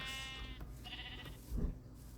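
A Minecraft sheep bleats twice, short wavering cries with a synthetic, game-like quality over a soft background hum.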